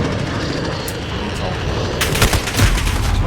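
Rapid gunfire and booms from Modern Warfare on the Shoot House map crackle over a dense rumble of game noise, loud and continuous, with a sharper burst of shots near the end.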